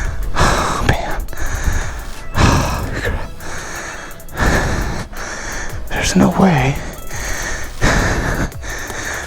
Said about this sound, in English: Sorry for the breathing